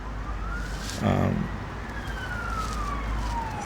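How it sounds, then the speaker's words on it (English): A siren wails past at a distance, its steady rising and falling tone sweeping by outdoors, with a brief low thump partway through. "We'll just let this siren go past."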